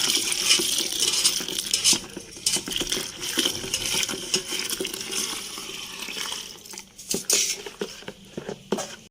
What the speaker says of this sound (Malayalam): മൂന്ന് ലിറ്റർ വെള്ളം കൂടി ഇതിലേക്ക് ഒഴിച്ച് നന്നായി ഇളക്കുക.